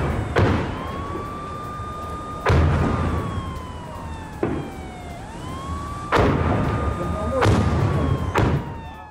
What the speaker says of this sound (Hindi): उत्तरी इजराइल में गूंजे अलर्ट सायरन